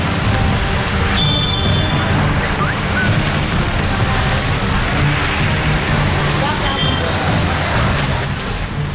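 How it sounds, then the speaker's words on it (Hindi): Heavy rain pours steadily onto surfaces during a storm over North India. It is a loud, dense, continuous hiss close by, with no distinct thunderclap standing out, and a voice can be heard faintly under it. "कहीं बादल गरज कर बरसने लगे"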